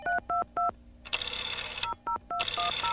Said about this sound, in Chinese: 夜深了，打个电话回家，